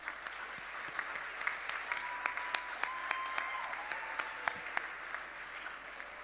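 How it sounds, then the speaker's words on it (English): A conference audience gives warm applause in a large hotel hall, steady crowd clapping with sharp individual claps standing out, lasting about six seconds. "And also a warm applause for the logistics teams from both Collage"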